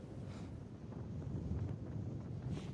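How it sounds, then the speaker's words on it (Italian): Very strong wind buffets an outdoor news reporter's microphone, a continuous loud rumbling roar with gusts swelling and easing, and no voice heard. "qui il vento è davvero fortissimo"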